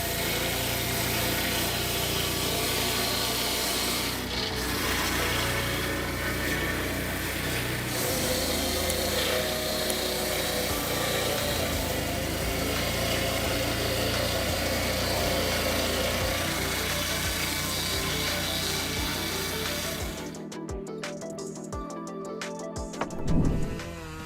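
A Husqvarna 3120 XP chainsaw cuts through a large log, its engine roaring loud and steady for about twenty seconds before dropping to a rough idle with a few sputters at the end.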